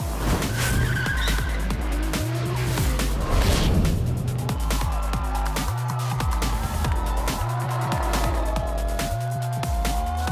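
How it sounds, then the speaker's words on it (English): Drift cars at the Gatebil drift festival in Sweden: loud, close engines revving hard in repeated surges, with sustained tire squeal and skidding throughout. "ni mas yn Gatebil yn Sweden, festival drift mwyaf bron y bod yn y byd"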